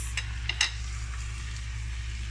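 Filipino skinless longanisa sausage fries and caramelizes in a pan, giving a faint, steady sizzle under a low hum, with a few sharp spits or utensil clicks early on.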